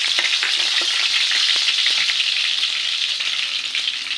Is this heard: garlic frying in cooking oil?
yes